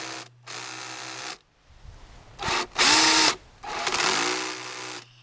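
Power drill running with its torque ring set wrong, in several loud bursts of motor whine, with the clutch ratcheting and stuttering between them and the pitch shifting as it spins up and slows.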